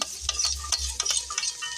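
Potatoes and carrots frying in a pan are stirred with a utensil, giving several quick scraping strokes over a soft, steady sizzle.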